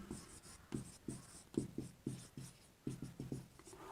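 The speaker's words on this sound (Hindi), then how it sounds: "चलो ये पॉइंट लिख लेते हैं" A teacher writes a point on a board during a Class 10 physics lesson on reflection of light, with a steady run of close chalk taps and short scratches in quick rhythmic bursts, and no talking.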